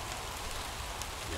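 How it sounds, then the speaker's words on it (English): Steady rain falls outdoors as a continuous, even hiss with scattered droplet patter, moderately loud and unbroken throughout, with no voices. "Yeah, it's raining."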